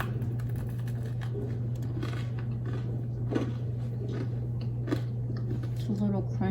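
Someone chews a crunchy frosted sugar cookie close to the microphone, with soft repeated crunches and bites over a steady low hum.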